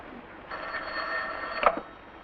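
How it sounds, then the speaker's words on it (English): An old-fashioned telephone bell rings in a quiet room, a steady metallic trill lasting under two seconds and ending in a brief louder clatter. "Answer that phone."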